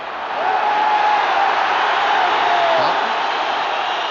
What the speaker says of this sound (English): Crowd wanted a free kick.